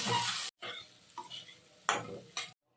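Pasta with oregano and salt stirred in a pan, a few loud scraping strokes of a spoon separated by short pauses, close and without speech.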